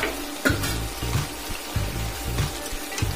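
Potato, papaya and soybean fry and sizzle in a pan, a steady crackle broken by rhythmic scraping of a spatula stirring the mix every half second or so.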